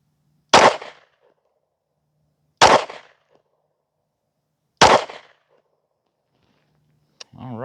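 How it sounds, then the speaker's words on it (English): Three sharp pistol shots from a custom PSA Dagger build with a Strike Industries Lite slide and L2D Combat Systems barrel, fired about two seconds apart at a range, each loud crack dying off quickly, followed by a brief faint voice. "we're going to go ahead and get these first shots on target"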